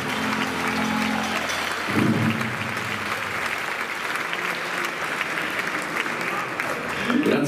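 A concert crowd at a Swingin Christmas 2022 big band show in San Severo gives sustained, loud applause with a swell near the two-second mark, while voices murmur underneath throughout.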